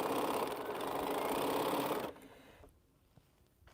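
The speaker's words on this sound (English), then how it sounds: "just trying to get some sewed so I can start sewing them together" A sewing machine stitches mini pinwheel quilt blocks in a steady, close whirring run for about two seconds, then stops, leaving quiet room tone.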